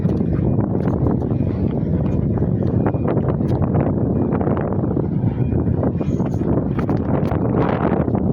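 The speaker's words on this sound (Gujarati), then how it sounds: "પવન બહુ જ ફૂંકાઈ રહ્યો છે" Strong wind buffets an open microphone in a countryside setting among small hills, a constant loud roar and rumble filling the whole stretch with gusty rustling throughout.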